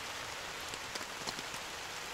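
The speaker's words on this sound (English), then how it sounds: "hope the rain would come in. Looks like it's coming down now." Rain patters steadily on a tarp shelter in New Zealand, a soft even hiss with a few louder individual drops tapping close by.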